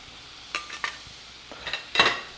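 Garlic sautéing in butter in a hot pan for alfredo, a soft low sizzle broken by several sharp scrapes and clinks of a utensil stirring against the pan, close by with no talk.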